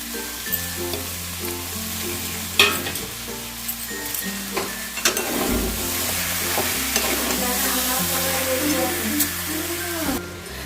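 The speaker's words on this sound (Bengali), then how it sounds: "এবারে আমি মাছের মাথাগুলো দিয়ে আরেকটু ভালো করে কষিয়ে নেবো" Fish heads stirred and fried with spices and rice in a pan for muri ghonto, giving a loud, constant sizzle with frequent spatula scrapes and clanks over a low steady kitchen hum.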